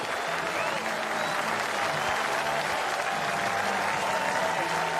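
A cricket crowd at a one-day international in New Zealand against Sri Lanka applauding a batsman's 150, steady dense clapping filling the ground throughout, heard from some distance with a faint commentary voice underneath.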